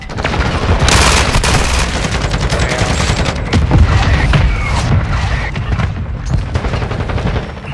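Gunfire and grenade blasts in a first-person shooter video game, dense bursts of rapid automatic shots mixed with heavy booming explosions, loud and continuous across the whole stretch.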